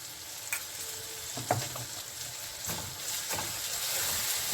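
Ground turmeric, coriander and cumin frying in a pan for a Bengali papaya curry, a continuous soft sizzle with occasional stirring scrapes, close and fairly quiet.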